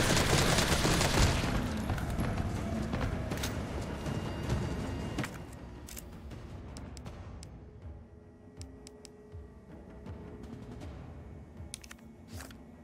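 Gunfire in the video game Resident Evil 3 Remake, starting as a loud, dense burst of shots and booms that thins out into scattered, sharper individual shots and impacts toward the end.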